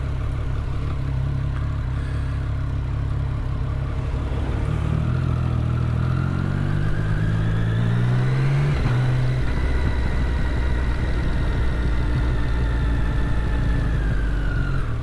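Several cars pass along a road, their engines and tyre noise swelling and fading one after another in a steady, fairly loud stream of traffic with no talking.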